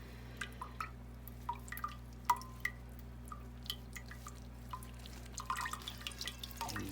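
Liquid drips from a squeezed cheesecloth full of cheese curds in faint, irregular drops spread across several seconds, with a few quick splashes near the end. The setting is quiet and no one speaks.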